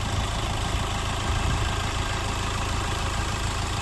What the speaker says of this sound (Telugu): ఇంజన్ అయితే ఎక్దమ్ పిన్ డ్రాప్ సైలెంట్ అన్నమాట